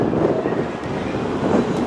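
Steady wind buffeting a microphone outdoors, a broad low rumble that holds constant throughout with no voices.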